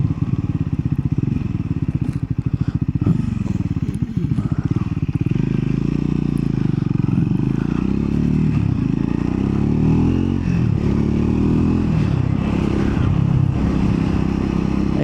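A Triumph Scrambler 400X motorcycle engine runs loud and close, a steady low throb with slight rises in revs and some mechanical clatter, no talking heard.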